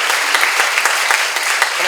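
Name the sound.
applause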